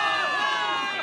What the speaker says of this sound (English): Give it up for yourselves, soldiers! Cheer for victory!